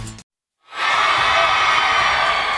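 A high school basketball crowd at Tuba City cheers during a playoff semifinal, breaking in after a brief silence and swelling into loud, sustained yelling and whooping that carries to the end.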